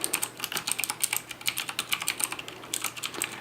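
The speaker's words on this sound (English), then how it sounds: "So I'm going to start typing randomly." Rapid, uneven clicking of keys being struck on a Razer BlackWidow mechanical gaming keyboard, close and crisp, with a steady run of sharp taps and no talking.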